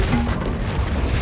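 Hogwarts Legacy Confringo spell explosion: a dense, loud rumbling boom that fills the short moment, with no talk.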